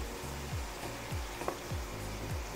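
Meat sizzling in a pan, a constant close frying hiss with a few soft repeated low thumps and one brief sharp tick, no voices.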